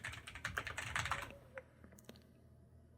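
Fast, close keystrokes patter on a computer keyboard in a dense run for about a second and a half, then thin out to a few scattered taps in quiet, with no voices.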